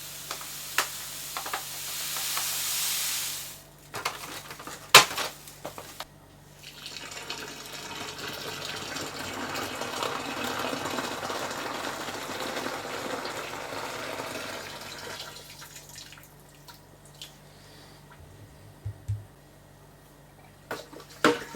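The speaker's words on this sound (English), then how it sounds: "I'm going to pour some boiling water onto it" Boiling water pours onto sugar for homemade summer fruit wine, a steady gushing stream for about ten seconds between quieter handling clatter, near and fairly soft.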